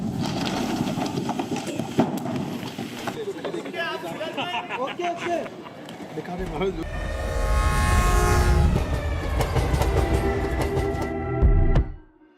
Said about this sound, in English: we'll have the trains coming up and down